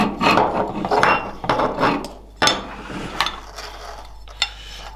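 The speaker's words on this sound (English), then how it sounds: "we're going to take our wiring loom and feed it through the access hole" A wiring loom is pushed and fed through the access hole of a motorcycle tail tidy base plate on a 2021 Aprilia, giving a series of close scraping, rubbing rasps with a few sharp knocks in between.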